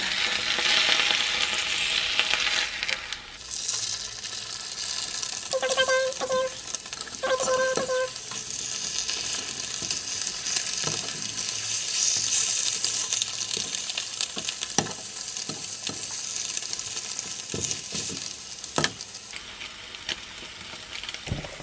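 Eggs frying in an oiled pan give a steady, close sizzle with scattered scraping and clinks of a utensil, continuous throughout with no talking.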